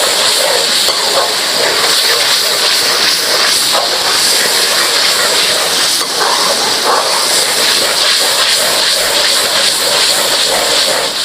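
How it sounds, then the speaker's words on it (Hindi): Onions fry in oil until brown for a restaurant-style chicken karahi, making a loud, continuous hissing sizzle that stays steady throughout with no talk. "अब प्याज हमने अच्छी तरह इनको ब्राउन करना है।"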